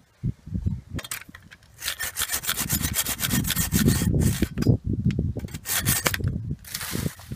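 Steady back-and-forth strokes of a hand saw cutting through a tree trunk, close and loud, rasping continuously with brief pauses near the start and end.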